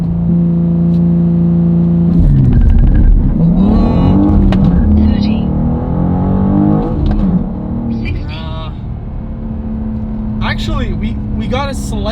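A BMW M2 G87 with a manual gearbox makes a launch with wheelspin in first gear: the engine idles, then revs hard and rises in a loud, close climb before easing off. A voice speaks near the end.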